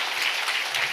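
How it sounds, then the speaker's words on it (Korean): A church congregation claps together in a dense, sustained wash of applause that stays loud and even throughout, with no voices on top. "성삼위 우리 하나님께 영광의 박수 보냅시다."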